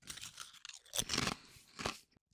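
Pesto potato chips crunched close up, several loud crisp bites and chews in quick bursts with no talking.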